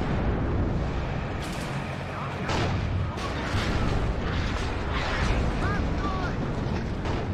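Artillery shells and explosions in the Cold War strategy game WARNO land in a continuous rumbling barrage, with booms and bursts stacked over dense battlefield noise that stays steady and loud throughout.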